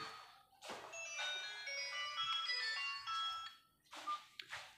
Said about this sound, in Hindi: फ़ोन आ गया, एक मिनट।